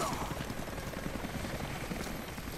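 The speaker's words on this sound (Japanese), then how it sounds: "あ、ヘリの音が大きいんだね。" In the Rise of the Tomb Raider video game, a helicopter gives off a steady, faint rotor drone with a continuous low chopping rumble that holds at an even level throughout.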